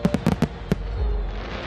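Fireworks burst in a quick cluster of five sharp, loud cracks over an outdoor event at Longleat, followed by a low rumbling fade.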